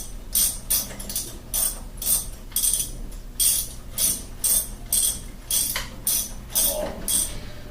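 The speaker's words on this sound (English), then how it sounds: "Then you can either use an open-end wrench or a socket wrench." A socket wrench ratchets in quick repeated strokes while tightening bolts on a snowcab, with about a dozen evenly spaced bright clicking bursts close up and no talking.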